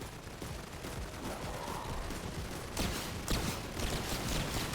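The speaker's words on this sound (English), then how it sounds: "The explosions from the missiles killed the hidden." Missile explosions in a video game rumble as a dense, muffled barrage, with a few heavier blasts standing out near the end, fairly quiet overall.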